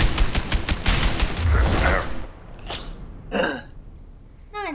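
Rapid bursts of video game gunfire crackle loud and dense for about two seconds, then fade into sparser, fainter shots and noises.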